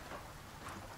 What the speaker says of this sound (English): Still a little shower here